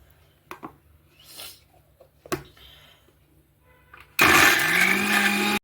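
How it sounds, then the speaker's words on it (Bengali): A kitchen mixer grinder grating cauliflower for paratha starts up after a few soft knocks and handling clicks, then roars loud and steady at close range, with a rising whine as it spins up. "আমি ফুলকপিটাকে মিক্সিতে গ্রেট করে নিচ্ছি।"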